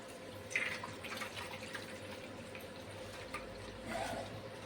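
Tap water runs steadily as flattened rice (poha) is rinsed clean in a sieve in a home kitchen, a quiet continuous trickle with a few brief splashes.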